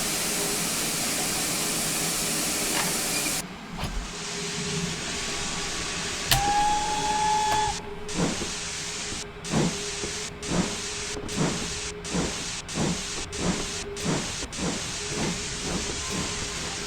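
A GWR Saint steam locomotive in Train Simulator releases its brakes with a long loud hiss of steam that cuts off, followed by a short whistle-like tone and a run of rhythmic chuffs as it moves off.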